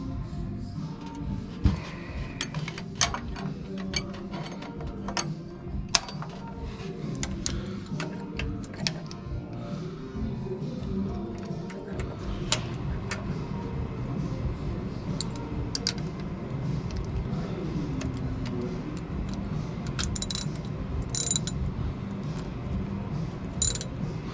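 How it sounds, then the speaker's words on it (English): Metal parts of a Brunswick bowling pinsetter turret clutch clink and ratchet as a gear is fitted into place, with steady small mechanical ticks and clicks spread across a quiet workshop background. "now we're going to put the gear in"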